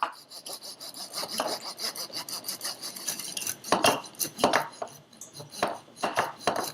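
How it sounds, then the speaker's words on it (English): Cake leveler sawing through the dome of a chocolate cake, repeated scratchy rasping strokes in an uneven back-and-forth rhythm, close and fairly soft with no talking. "so now I'm going to level off the dome. I'm going to be using my cake leveler today"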